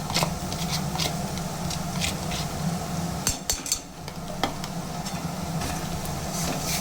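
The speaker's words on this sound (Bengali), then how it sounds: "পেঁয়াজটা লাল হয়ে গেছে, এবার আদা রসুনের পেস্টটা দিয়ে দেবে" Ginger garlic paste added to onions frying in a pan, a soft continuous sizzle with a few spoon scrapes and clinks near the middle, moderately quiet and close, with no talking.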